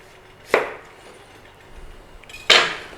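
Two sharp knife strokes through onions on a chopping board, about two seconds apart, each a crisp close thud-crunch with no talking in between.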